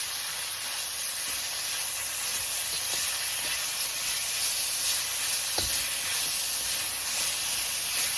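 Beef browning in a pan for Chinese sweet and sour beef gives a loud, steady sizzling hiss with soft crackles and an occasional pop, with no voices.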